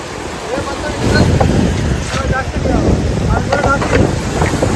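A boat pushes out through the surf off Devbag, Malvan, on a traditional fishing trip, with strong wind buffeting the microphone and waves crashing close by in a steady roar.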